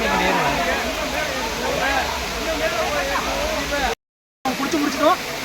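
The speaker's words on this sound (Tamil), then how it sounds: "அருவிக்கிட்ட வந்தாச்சு" A waterfall in Kerala pours in a steady, dense roar close by, with people talking and calling over the rushing water.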